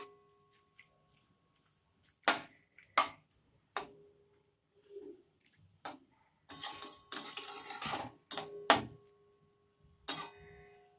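A spoon clinks and scrapes against a pot while cluster bean curry in yogurt is stirred. The taps come in scattered, close, fairly loud bursts with quiet gaps between them, and no one talks.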